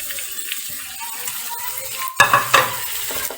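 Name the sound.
stirring karela and onion with green chilies in pan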